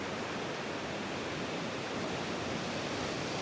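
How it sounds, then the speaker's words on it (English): Steady ocean surf washing onto a sandy beach in Panama, a continuous broadband hiss of breaking waves at an even, moderate level with no voices. "Listen to the ocean."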